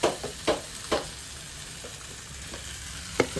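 Coriander powder goes into a sizzling tomato mixture and is stirred. A steady frying hiss runs throughout, broken by several sharp, close scrapes of a spoon against the pan, with a few more near the end. No one speaks.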